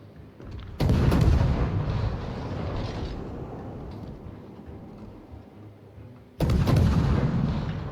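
Tank cannon fire in a World of Tanks–style video game as a Gearing targets a Z-52: two loud, booming blasts, the second near the end, with a long rumbling decay of engine and battle noise between them.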